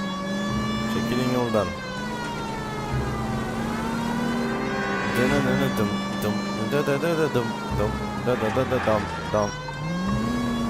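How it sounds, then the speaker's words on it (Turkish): A police car siren wails in the L.A. Noire video game, rising and falling over a running car engine while people talk close by. "Yak abi sirenleri."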